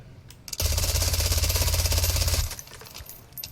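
A video-game gun with a chainsaw setup fires one long rapid burst of about two seconds, a dense rattling stream of shots, with a few short sounds before and after.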